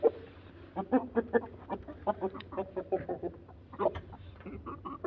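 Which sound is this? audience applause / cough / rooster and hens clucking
rooster and hens clucking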